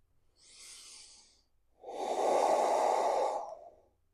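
Heavy breathing during a slow, intense vinyasa yoga flow: a softer breath in, a pause, then a longer, louder exhale lasting almost two seconds, close and alone with no talk.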